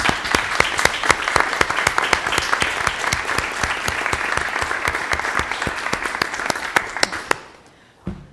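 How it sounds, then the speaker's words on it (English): A room full of people at a town select board meeting in Falmouth gives a sustained round of applause, steady dense clapping that carries on for several seconds before tapering off and falling silent. "everyone in the room owes Kathleen a round of applause for all she has done"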